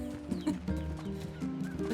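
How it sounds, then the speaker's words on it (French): Hens cluck with chicks in the video game NieR Replicant, a busy, layered in-game soundscape of repeated short clucks and calls over steady background music and ambience. "Oh, une poule avec des poussins trop mignons"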